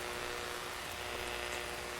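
Steady rain falls on a surface as a dense, continuous hiss with a constant level throughout, no voices heard.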